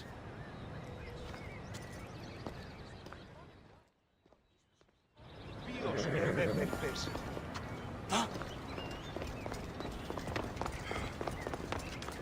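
Hooves clip-clop from a ridden horse in Assassin's Creed Odyssey, steady and mid-distance, under game voices and ambient noise, with a brief near-silent gap partway through before louder galloping resumes.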